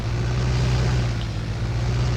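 Steady low drone of a tractor engine idling in Farming Simulator 19, constant and close with no talking.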